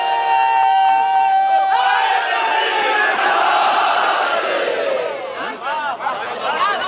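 A crowd at a Shia majlis in Jaunpur chants religious slogans (naara) together, a loud, dense roar of many voices that swells in and holds steady after a brief single voice.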